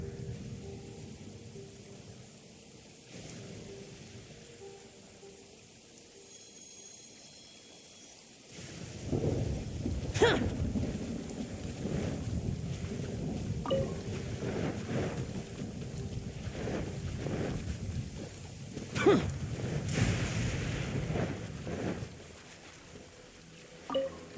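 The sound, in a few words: rain and thunder in the video game Genshin Impact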